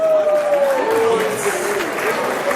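A crowd claps steadily and loudly throughout, with a voice speaking over the applause.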